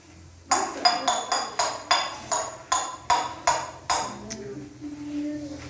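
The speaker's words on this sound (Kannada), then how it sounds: "ಬಾಣಲೆಯನ್ನು ಬಡಿಯುವುದು," A metal frying pan is struck by hand about ten times in an even rhythm during a school sound experiment, each hit a sharp ringing clang that decays before the next, with a faint voice at the end.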